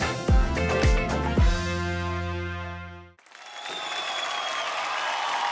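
Music at the grand finale of a Bharat Ka Amrit Kalash performance event ends on a sustained chord, then audience applause swells into steady, dense clapping that continues to the end.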